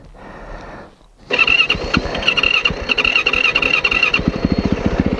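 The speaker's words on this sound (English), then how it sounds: "this is some practice of gravel. I'm trying out the wheels" A motorcycle is ridden over gravel on off-road wheels. After a quieter second, the engine surges loudly and close, with rapid throttle pulses and a rough, uneven roar that continues to the end.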